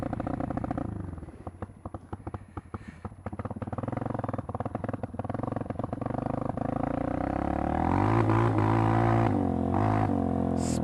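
A Honda CRF230L dual sport motorcycle engine with knobby tires revs unevenly, then climbs into a steadier rising drone as it spins up. The sound is fairly close and has no talk over it.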